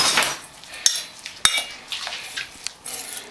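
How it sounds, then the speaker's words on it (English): Ingredients are quickly mixed in a bowl in a kitchen, with several sharp clinks and scrapes of a utensil against the dish, close and fairly clear with no talking. "I'm going to give this a quick mix."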